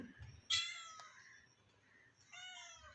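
A cat waiting to be fed gives two short meows close by at low volume, with faint background noise between them.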